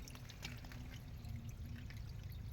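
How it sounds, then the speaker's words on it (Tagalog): Quiet steady trickle of spring water flowing continuously through a small hole in a wooded area, soft and close, with a faint low hum underneath. "umaagos lang yung tubig sa maliit na"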